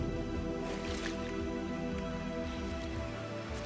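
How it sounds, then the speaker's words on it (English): A player character in No Man's Sky wading into water, giving a soft continuous splashing and dripping wash with wet squishy movement, steady and fairly quiet throughout. "Head into the water."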